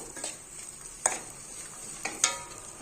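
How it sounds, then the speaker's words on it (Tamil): Onions or similar ingredients sauté in ghee in a pan, giving a soft steady sizzle. A spoon stirs and scrapes against the pan a few times, making brief clinks. The sound is close and moderately quiet, with no voices. "இதை ஒரு வதக்கு வதக்கி கொடுத்துக்கலாம் வதங்கட்டும்"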